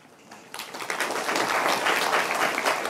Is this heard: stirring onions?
no